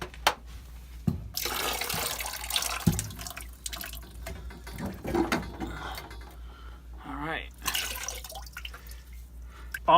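Heating fluid dripping and trickling from a loosened circulator pump on a home heating system, scattered close drips and splashes with faint knocks and handling noise in a quiet room.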